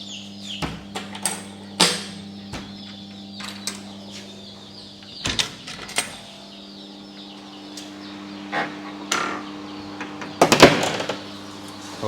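An egg incubator on a poultry farm being opened, giving scattered clicks, knocks and latch-like thuds over a steady low machine hum, with a rooster or hens clucking faintly in the background.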